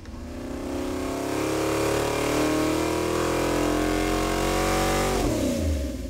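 Junkyard 460 big-block V8 on a dyno, held at a loud rising rev toward 4,000 RPM for several seconds, a deep steady roar climbing in pitch before the throttle drops off and the engine falls back near the end.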